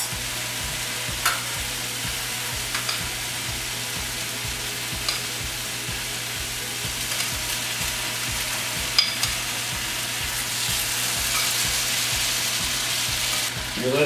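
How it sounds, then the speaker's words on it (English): Tomatoes and chili simmer in a pan on low heat for Italian cod fish, giving a soft, even sizzle and bubbling hiss with a steady low rhythmic pulsing and a few faint clinks. "You let it simmer"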